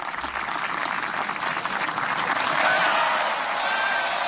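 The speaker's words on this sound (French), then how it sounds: "Ils applaudissent." A large crowd applauds at a peace accord signing, a dense, continuous wash of clapping that swells slightly louder toward the end, heard from a distance.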